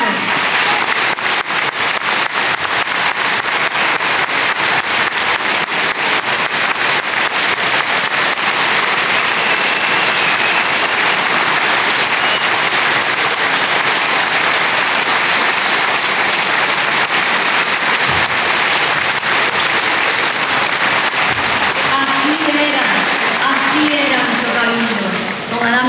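Loud, dense crowd applause fills a political rally at Tenerife's fairground, a sustained roar of clapping that carries on steadily with some cheering near the end.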